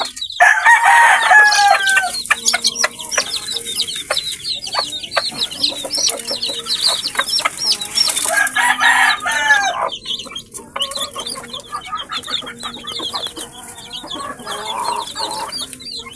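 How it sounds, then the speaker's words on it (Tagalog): Chickens and many chicks on a poultry farm, close and loud, with a dense chorus of high peeping and clucking, louder bursts of calls, and a rooster crowing among them. "Yan, napakarami ng sisiw natin."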